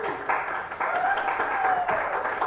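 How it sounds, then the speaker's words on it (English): An audience at a performance art event claps for the host: a short burst of dense, moderate applause from a small crowd, steady throughout the few seconds. "If we want to give her a round of applause."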